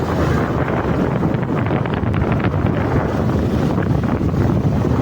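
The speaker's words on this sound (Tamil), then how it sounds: "சிலு சிலு வென்று பூங்காற்று மோத" Strong wind buffets the microphone in a constant, loud roar with no pauses, alone without any voices.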